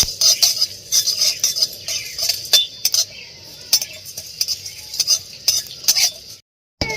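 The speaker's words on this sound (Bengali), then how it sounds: "গোটা জিরে ভালো করে শুকনো খোলা আমি ভেজে নেবো এটাকে" Whole spices such as dried red chillies, cumin, coriander, fenugreek and pepper dry-roast in an open pan, stirred with repeated bright metallic scrapes and clinks over a faint rustle, ending in a brief silence.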